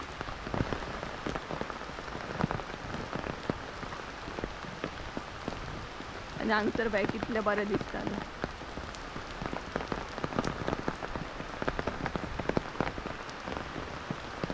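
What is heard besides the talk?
rain falling in the forest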